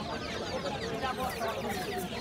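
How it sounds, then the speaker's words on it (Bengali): Soft, continuous clucking and peeping of native chicken chicks close by at a bird market, a busy overlapping chatter of birds with no pause. "দেশি মুরগি বাচ্চা এগুলো"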